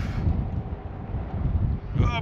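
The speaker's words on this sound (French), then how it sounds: "Il y a du vent" Wind blows strongly outdoors at a cove lookout, a continuous low rumbling buffet across the microphone with no pauses, loud and close.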